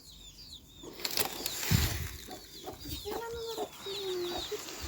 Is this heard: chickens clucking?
yes